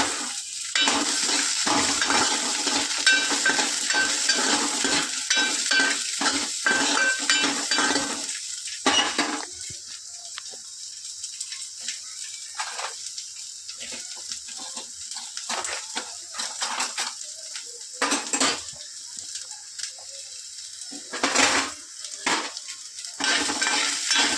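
Onion, garlic and coconut roast in a pan for a mutton dish, with a crackling fry in the opening seconds that gives way to intermittent stirring, scraping and utensil clatter against the pan.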